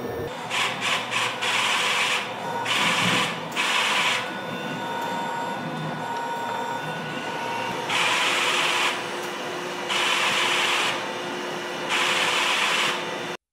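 An Otter 40 DTF printer runs a printhead cleaning cycle, with rhythmic whirring bursts of the carriage and pump starting and stopping in a repeating pattern over a steady mechanical hum, close and moderately loud.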